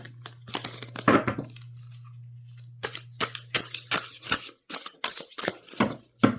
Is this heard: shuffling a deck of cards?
yes